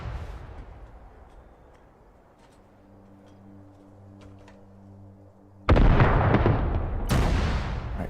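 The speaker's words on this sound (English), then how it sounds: "Just keep firing off a few more rounds." Weapon rounds firing in the military game Arma 3 arrive as a loud sudden blast after a quiet, humming stretch, followed by a second sharp report, both with heavy booming tails.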